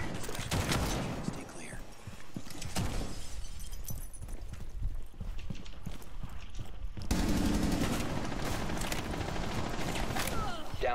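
Video game gunfire crackles in dense, rapid bursts like automatic weapons, with shattering and breaking sounds mixed in, loud and nearly continuous throughout.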